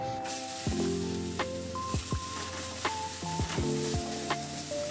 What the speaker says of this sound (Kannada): ಎಲ್ಲ ಹಾಕಿ ಚೆನ್ನಾಗಿ ಫ್ರೈ ಮಾಡಬೇಕು ಅದು ಗೋಲ್ಡನ್ ಬ್ರೌನ್ ಕಲರ್ ಬರಬೇಕು